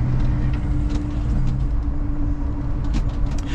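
A truck with a manual 18-speed Road Ranger gearbox drives through thick traffic, its engine giving a steady, close, low rumbling drone with faint cab and road noise and no talking.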